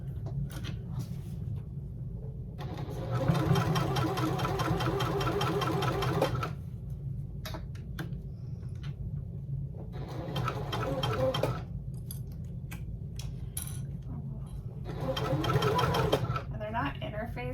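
Sewing machine basting tote bag pieces in quick bursts of rapid stitching, three main runs separated by pauses, heard close and loud with a steady low hum underneath.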